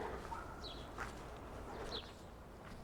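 Birds in a yard give a few faint, brief chirps at scattered moments over a quiet outdoor hush, heard from some distance with no voices.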